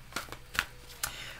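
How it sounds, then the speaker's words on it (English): Divination of the Ancients oracle cards being shuffled, three quick, faint papery riffles in a short burst, spaced apart and close by. "before I shuffle these Divination of the Ancients and do us a little reading from that Oracle deck"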